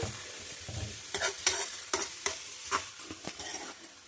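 Garlic, chilli powder and turmeric sizzle and crackle in hot oil in a pan for amaranth-leaf fry, with steady frying hiss broken by several sharp stirring scrapes, close and moderately loud.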